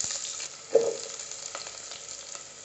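Onions fry in hot ghee with cinnamon and cloves, a steady close sizzle broken by a brief louder hiss as they go into the pan, with no talking.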